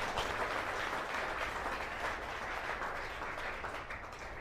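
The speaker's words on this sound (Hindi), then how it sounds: "एक बार जबरदस्त ताली होनी चाहिए दोनों आदमी के।" An audience at an RCM network marketing business seminar claps together, a dense, steady wash of applause held at even strength for several seconds, moderately distant.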